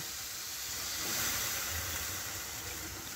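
Water is poured into a pan of hot fried spice paste for an eggplant and hilsa fish curry, giving a steady hissing sizzle up close that swells slightly midway and then holds.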